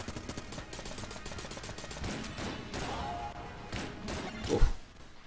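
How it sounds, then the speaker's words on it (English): A nail gun weapon fires in the video game Exit the Gungeon, with rapid, repeated metallic shots over game music and a heavier impact thud near the end. "Got nail gun, which is possibly a worse weapon for it."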